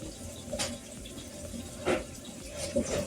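Hot water runs from a tap into a container, a soft steady trickle with a few brief splashy swells, faint and close in a quiet kitchen.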